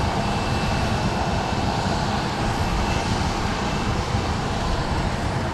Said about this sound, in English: Southwest Flight 1290 coming in from Sacramento, California is on short final.